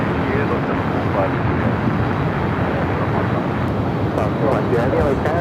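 A 26-year-old Delta Boeing 767-300ER at Los Angeles airport gives a loud, steady jet roar mixed with wind buffeting on the microphone, while a voice talks over it throughout.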